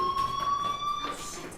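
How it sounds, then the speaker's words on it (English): A fire alarm rings in the video game Life Is Strange, a steady, loud electronic tone with sustained harmonics that holds for over a second before cutting off, leaving faint background noise. "do you hear that fire alarm?"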